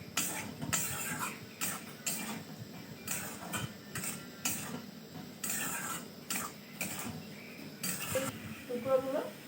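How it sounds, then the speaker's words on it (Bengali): Potatoes and pointed gourd being stirred with spices in a pan, giving continuous scraping and clinking of a spoon against metal, with irregular taps and a low sizzle underneath, at moderate loudness. "আলু পটলগুলো মশলার সাথে খুব ভালোভাবে একটু মিশিয়ে নেবে"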